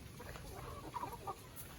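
Chickens clucking softly on a rural Thai homestead, a few short, faint clucks in the middle of a quiet outdoor ambience.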